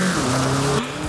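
A car skidding in Forza Horizon 5, its tires squealing loudly in a brief, sustained screech over the revving engine, which drops away near the end.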